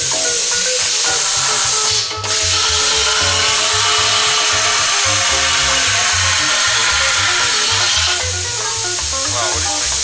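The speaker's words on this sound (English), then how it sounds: "it does take practice to use a plasma cutter" A plasma cutter cutting through metal: a loud, steady hiss with a rough, crackling texture that holds for about ten seconds, with one brief dip partway through.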